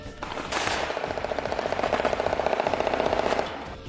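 M240 machine guns fire a long, loud sustained burst at about 1,000 rounds a minute within 100 meters, the rapid shots blurring into a continuous rattling roar.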